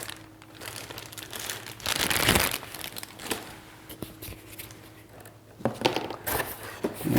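Plastic packaging is pulled off a newly unboxed Garmin fishfinder unit, with close crinkling, tearing and rustling in irregular bursts, louder in the middle and near the end.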